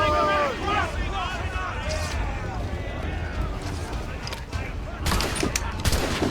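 Gunfire from a naval battle in the Assassin's Creed Rogue video game, with a burst of loud cracking shots near the end over a steady background of game noise; a person talks over the start.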